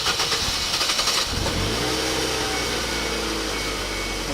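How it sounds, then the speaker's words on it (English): A manual-transmission car cranks briefly and its engine catches, then runs at a steady, fairly quiet idle with a low rumble. "the car starts."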